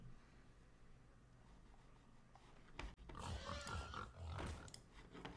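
A cartoonish pig oink plays as the Counter Pig card triggers in a Hearthstone-style card game, a short loud burst of squealing grunts after a quiet lead-in of faint game ambience.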